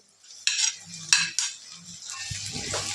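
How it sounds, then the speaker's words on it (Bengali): A utensil clinks and scrapes against a pan while carrots, beans and capsicum are stirred and fried, with a few sharp knocks and a faint sizzle underneath. "এবার এইগুলো সব কিছু একসাথে নেড়ে চেড়ে ভেজে নেব।"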